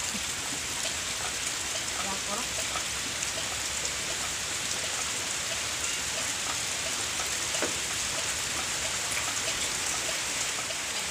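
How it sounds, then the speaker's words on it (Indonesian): Heavy rain pours down steadily, a dense, loud hiss of drops on surfaces that never lets up. "Udan ini semakin deras."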